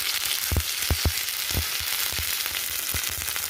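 Ginger, garlic and chili paste sautéing with fried onions in a pan, a dense continuous sizzle broken by several sharp spatula knocks, close and loud, no voices.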